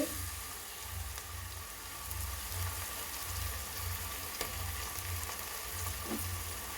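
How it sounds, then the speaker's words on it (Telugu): Onions with ginger garlic paste frying in a pan for egg biryani, a steady close sizzle with faint stirring scrapes throughout and no voices. "బాగా వేగనివ్వాలి రెండు నిమిషాల పాటు వేగనివ్వాలండి"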